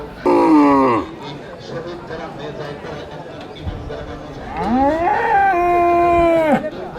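Cattle, including cross-bred cows and bulls, moo at the busy Gasline Animal Market in Bangladesh: one loud, drawn-out low call near the start and a longer, rising bellow later, with crowd noise in between.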